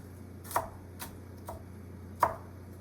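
Four separate knife strikes on a cutting board while chopping garlic, unevenly spaced, over a low steady hum.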